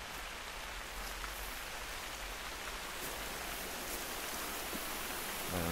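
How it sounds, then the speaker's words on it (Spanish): Steady rain in the hunting video game theHunter hisses evenly on surfaces, a dense continuous wash of drops with no pauses. "Qué bueno que está la lluvia, está muy bien hecho."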